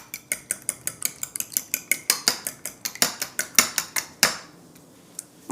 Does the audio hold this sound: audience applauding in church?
no